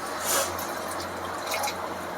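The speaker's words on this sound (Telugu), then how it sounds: "అదే మిక్సీలో కొద్దిగా వాటర్ అయితే వేసుకొని నేను ఇలాగా వేసుకుంటున్నాను" Water trickles and splashes steadily into a mixer-grinder jar, a continuous close pouring sound with no talking.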